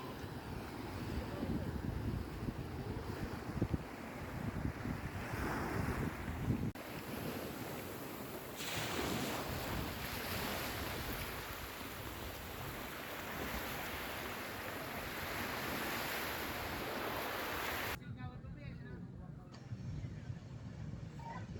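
Sea waves wash onto a beach in Infanta, Quezon, a continuous rushing surf with heavy wind buffeting the microphone throughout and a sharp drop in brightness near the end.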